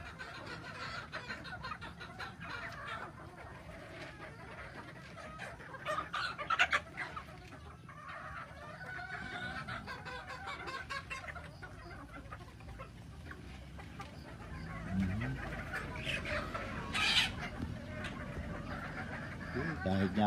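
Chickens cluck and crow at a breeder chicken farm in the Philippines, a steady chorus of birds near and far with occasional louder calls, under someone talking throughout.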